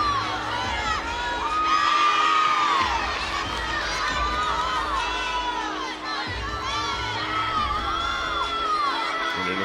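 Arena crowd at the Hearn Center cheering a gymnastics score at a college meet: sustained loud roar of shouts, whoops and high-pitched cheering, swelling and dipping over several seconds with no clear speech.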